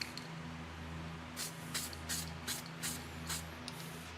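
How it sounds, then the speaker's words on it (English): Several short hissing bursts of spray paint onto a car wheel, each lasting a fraction of a second, repeat at an uneven pace over a steady low electrical hum. "Let me just shoot a little bit on this wheel and see if I like it."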